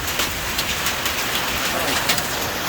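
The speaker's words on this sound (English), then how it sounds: "It's even hailing." Hail pelts down hard outdoors beside a 7.3 Powerstroke OBS Ford dually truck, a dense, loud, steady hiss of pellets striking surfaces with sharp ticks scattered throughout.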